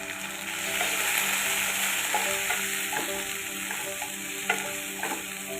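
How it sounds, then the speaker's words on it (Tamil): Tomatoes frying and sizzling with shallots and green chillies in a pan for a chutney, a steady broadband hiss with occasional stirring clicks and scrapes, close and continuous, with music tones underneath. "இந்த மாதிரி நல்லா வதங்கியதும் நம்ம தக்காளியை போட்டு வதக்கிக்கிறோம்."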